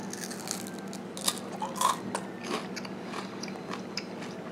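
Crisp bites and chewing on a Thai rice cracker topped with spicy pork floss, close up, with a few sharp crunches followed by softer, irregular chewing, no talking.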